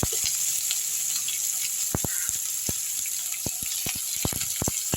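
Onion hits hot oil with tempered spices for horse gram sambar, giving a steady bright sizzle broken by frequent sharp crackles and pops, close and moderately loud, with no talking.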